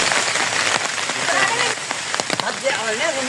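Heavy rain falls in a steady, dense patter across surfaces, loud and continuous, with a voice talking over it partway through.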